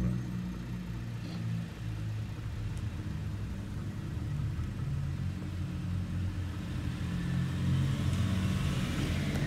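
A Toyota Century runs smoothly and quietly on the road, a steady low engine and road rumble heard from inside the cabin with no talking.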